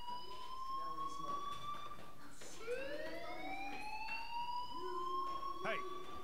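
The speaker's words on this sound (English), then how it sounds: "Hey, do you hear that fire alarm?" A school fire alarm in Life is Strange sounds as a sustained electronic siren, rising and falling in steady sweeps at moderate volume under background ambience and some voices.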